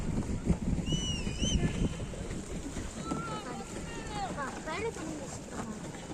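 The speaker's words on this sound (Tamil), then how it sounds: "படகு ஓட்டுறதே ஒரு இனிமையான செயல்." Boat being rowed on open water, faint splashes and wind buffeting the microphone, with people talking and calling out over it.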